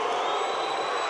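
Basketball arena crowd in Kigali at a 2023 BAL game between Al Ahly and Stade Malien cheers a made free throw, a broad, loud roar of voices sustained without a break.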